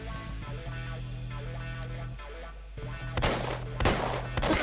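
Gunfire while shooting zombies in the FPS Creator game Slipgate: several loud bursts of game gunshots near the end, over a steady drone of in-game music and ambience.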